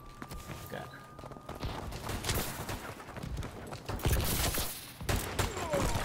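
HBR assault rifle gunfire in a Call of Duty multiplayer match, rapid crackling shots and bursts scattered through the scene at moderate volume, mixed with game effects and a player talking.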